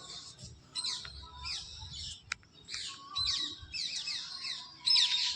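Parrots call in repeated squawks and chirps during rainy weather, fairly near and moderately loud, with a sharp click partway through and steady bird calls throughout.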